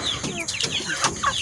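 Chickens clucking in a rural mountain setting, a series of short, fairly close clucks and calls with bird chatter behind them.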